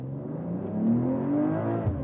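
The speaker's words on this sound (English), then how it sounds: "Really nice plop, plop, plop from the exhaust as well." A BMW inline-six engine accelerates from a standstill, a close, steady rising drone with a few faint low thumps near the end that could be exhaust pops. No one speaks over it.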